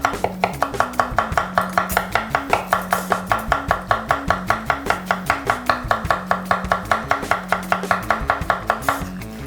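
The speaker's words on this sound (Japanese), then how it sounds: "さあ玉ねぎを刻んだらですね" An onion chopped finely with a knife on a cutting board, a rapid, steady run of sharp close taps repeating evenly throughout with no talking.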